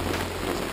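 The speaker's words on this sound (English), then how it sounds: "Started getting a little heavy rain." Heavy rain patters steadily on a camping canopy beside a campfire, a dense, even hiss that fills the brief moment without any voices.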